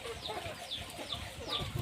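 Native chickens cluck softly in short repeated calls, about four evenly spaced notes over a low, rustling background.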